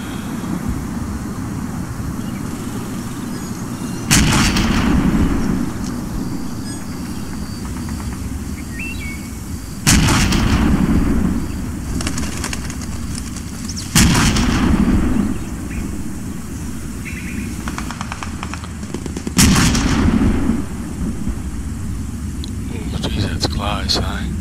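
Artillery shells land in the Combat Mission: Red Thunder war game as four separate heavy booming bursts spaced several seconds apart, each with a short rumbling tail over a constant wind-like background.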